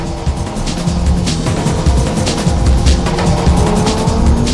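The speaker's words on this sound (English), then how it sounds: "Orito's Lancer takes the uphill" A turbocharged Mitsubishi Lancer races uphill on a mountain pass in a touge battle, its engine roaring loud and sustained with tire noise throughout, no voices.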